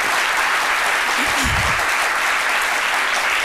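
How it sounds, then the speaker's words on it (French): An audience bursts into loud, sustained applause, dense clapping holding steady for the whole stretch. "cela ne va pas nous empêcher d'applaudir très fort le sage"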